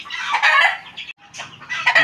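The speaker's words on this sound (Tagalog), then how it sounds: "Ito nga po ang mga manok na patukan na rin po namin." Chickens on a backyard farm clucking and squawking close by, several bursts of busy calls with a short gap in the middle, no talking.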